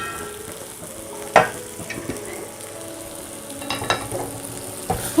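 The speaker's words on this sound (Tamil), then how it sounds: "அடியில் கரண்டியை விட்டு சுரண்டி கலந்து விடுங்க." A ladle scrapes the bottom of a pan of pepper chicken over a steady sizzle, with a sharp clank near the start and more scraping strokes toward the end, close and clear.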